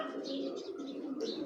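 Soft, low cooing from a jelly pigeon, a fancy breed, a continuous murmuring call close by over about a second and a half.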